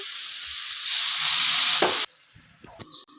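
Doodh Kochu Saag greens fry in a pan with a bright, loud sizzling hiss that surges and then cuts off abruptly, followed by quieter scraping and stirring sounds close by.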